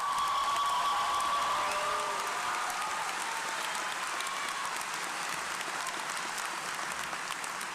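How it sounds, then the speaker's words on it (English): Sustained applause fills a graduation ceremony hall for a law school commencement, a dense steady wash of clapping from a large crowd with a whistle or cheer rising near the start, then settling into even clapping. "as you can hear from the applause and my mom probably screaming the loudest of all"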